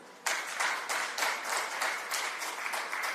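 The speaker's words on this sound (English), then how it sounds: "Let's have a huge round of applause for the panel." A conclave audience breaks into applause for a panel, starting abruptly after a brief quiet moment and continuing as dense, steady clapping at moderate loudness.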